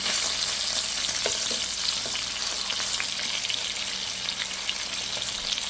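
Rupchanda (pomfret) fish fry in hot oil in a pan for dopeyaja while the pieces are turned, giving a continuous close sizzle with scattered small pops.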